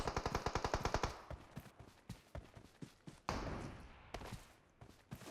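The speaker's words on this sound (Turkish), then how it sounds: "Biri M24 da sıkıyor kardeşim." Rapid gunfire in PUBG near the town of Pochinki, with a fast burst of shots at the start and then scattered single cracks and reports at varying distances.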